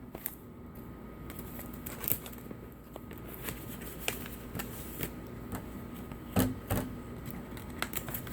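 Cutting open a retort pouch just below its seal, close small crackles, snips and plastic rustles scattered through a quiet room, with a few sharper clicks.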